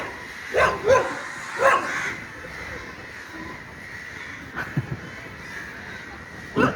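On Kollam beach in Kerala, a dog barks at a kite bird caught in a kite string, with a few sharp barks early on, scattered yips later and a final bark at the end, all at moderate distance.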